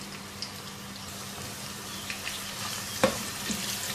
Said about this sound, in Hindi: गोल्डन ब्राउन फ्राई करेंगे इस प्याज को।